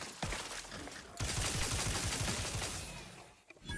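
Rapid weapon fire in the game The Outer Worlds 2, a brief opening shot followed after a pause by a sustained burst of fast repeated shots that then fades, with a final report at the end.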